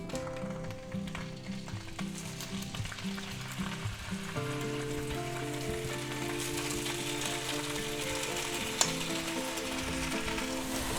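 Smoked ham browning in a hot oiled skillet gives a steady, loud sizzle and crackle that runs without a break, with a single sharp pop near the end and no talking.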